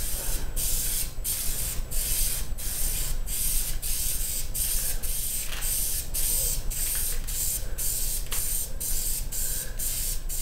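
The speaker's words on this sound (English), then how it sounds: "Always spray a little bit down here to make sure it's spraying good." Spray paint hisses in steady repeated bursts onto a custom-made blaster, close and continuous with brief pauses between passes and faint handling noises.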